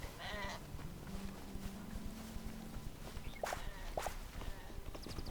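A couple of sheep bleat briefly in the video game Hytale against a low steady background, with soft footsteps crunching along and a faint hum.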